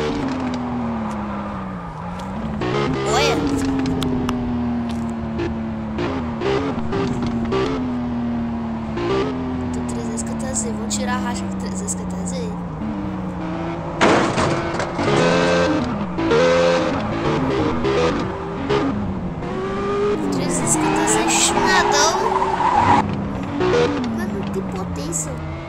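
Toyota Supra in a racing video game, engine revving up and down through gear changes with repeated tire skids and squeals, loud and continuous while someone talks over it.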